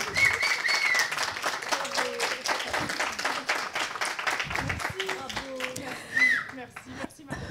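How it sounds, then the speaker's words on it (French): An audience applauds to welcome a Congolese literary author to the stage, a steady wash of clapping running under a speaker's amplified voice throughout. "Sous vos applaudissements, s'il vous plaît."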